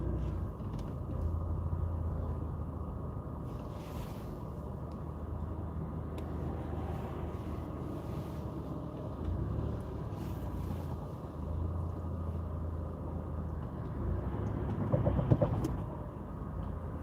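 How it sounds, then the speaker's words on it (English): A car crawling through slow night traffic on a UK drive from Stalybridge to Wigan gives off a steady low engine drone with faint wind noise, continuous and unbroken, with no talking. "Car doesn't like going this slowly."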